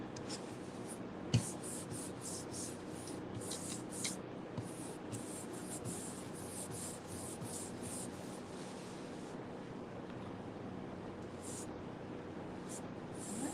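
A cloth rubs furniture wax into painted furniture in a continuous quiet scrubbing swish, with rhythmic strokes heard close up and no talking.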